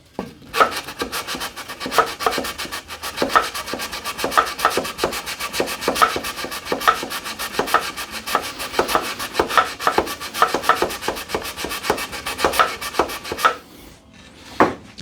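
Wooden blocks for a custom range hood being hand-sanded, with rapid, regular rasping strokes, close and fairly loud, continuing steadily before a brief pause near the end.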